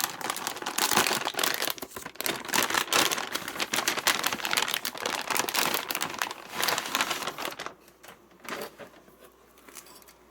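A graphics card's packaging crinkles and crackles up close in dense, rapid bursts as it is unboxed, tapering to quieter rustling near the end, with no talk.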